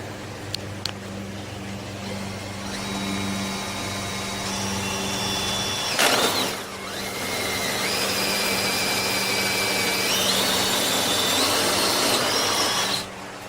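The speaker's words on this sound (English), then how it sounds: "and we're going to drill that hole." A power drill whines steadily for several seconds while drilling holes for an aquaponics greenhouse, its pitch climbing as it bites in, with a brief pause and clatter before drilling resumes.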